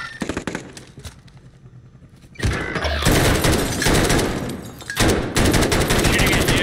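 Machine gun fire in a combat video game: rapid rattling bursts, sparse at first, then a sustained, loud hail of automatic shots with brief pauses.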